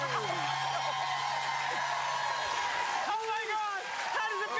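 A studio audience at a talk show's end zone dance-off claps and cheers loudly, a dense continuous roar with whoops, and a voice speaks over it near the end.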